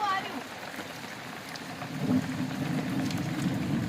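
Rain falling steadily in a soft, continuous patter, with a low rumbling hum growing beneath it partway through.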